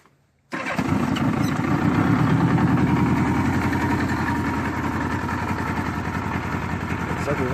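A motorcycle with about 22,900 miles fires up after a brief silence and settles straight into a steady, throbbing idle, close and loud throughout.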